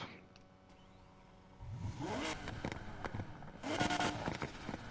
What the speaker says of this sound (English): Okay, exhaust. Let's hear that V12.